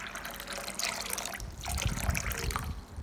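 Running water rinsing black sesame seeds and peanuts in a kitchen, a steady close splashing trickle that thickens into a fuller gush with soft knocks partway through.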